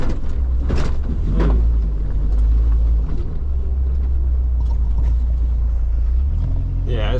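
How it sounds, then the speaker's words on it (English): A 1998 Jeep Wrangler with a newly replaced transmission drives slowly on dirt, its steady low engine rumble filling the clip, with people talking over it and some wind noise. "I love driving this Jeep"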